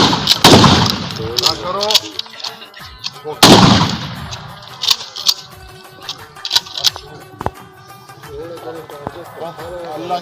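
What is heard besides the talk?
gunfire during firing practice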